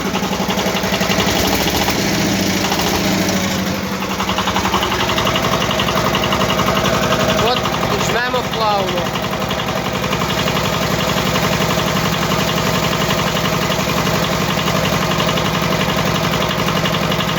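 Homemade generator built from a washing machine motor, driven by a small engine that drones loudly and steadily throughout, with a short rise in pitch as the throttle is opened.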